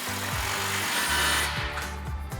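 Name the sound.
impact wrench tightening exhaust clamp with 15mm socket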